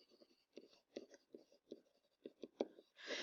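Pen or marker writing notes for a math lesson, a close series of short scratchy strokes in uneven bursts with brief pauses, ending in a longer, broader scrape; fairly quiet with no talking over it.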